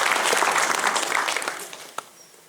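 A crowd at a faith concert gives a round of applause, steady dense clapping that tapers off toward the end, with one sharp final clap.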